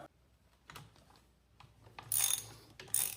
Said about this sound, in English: I'm gonna pull this bolt.